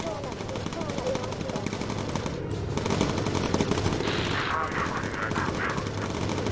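Bomber Crew turret machine guns fire continuously from a WWII bomber's gun positions, with a dense, loud, rapid stream of shots that runs for the whole stretch with no pauses.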